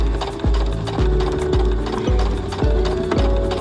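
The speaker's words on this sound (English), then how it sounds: "You can just sew straight over the top of that pin because it's sideways." A sewing machine runs steadily while stitching a centred zipper, its loud, close motor drone pulsing with a regular rhythm of short rises and dips as the needle works through the fabric.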